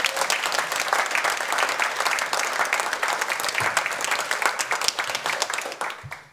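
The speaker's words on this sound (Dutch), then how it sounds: "Geef hem nog een keer een applaus." Audience at a literary late-night show applauds author Kees Mayfield, a dense, lively round of clapping that holds strong before tapering off sharply at the end.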